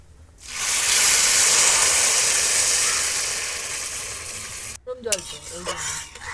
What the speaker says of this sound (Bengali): ডাল ভাজা হয়ে গেছে, এবার জল দিয়ে দেবো।